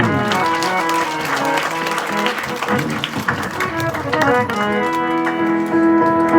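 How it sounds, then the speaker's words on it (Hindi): Audience at a Bhagavat Katha gathering near Hamirpur and Una in Himachal clapping loudly for children after a performance, a dense, continuous burst of applause mixed with steady devotional music throughout. "एक बार सबके लिए जोर से ताली।"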